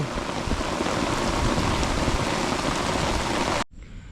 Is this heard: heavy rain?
yes